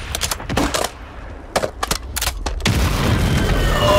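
In the Warzone video game, an airstrike sets off a rapid string of sharp explosive bursts in several clusters, then gives way to a sustained rumbling wash of noise, loud and near.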